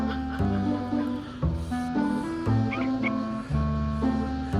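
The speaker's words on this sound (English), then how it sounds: "She's barking at the camera that's moving." A dog barks repeatedly in short, loud bursts at an irregular rhythm, close by, with no one speaking.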